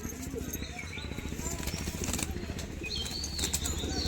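Pigeons, including a female, flap their wings in short, soft bursts, faint and close, with people talking over them.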